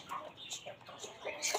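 Aseel fighting roosters give short, scattered clucks and squawks at close range, quiet and intermittent, with no people talking.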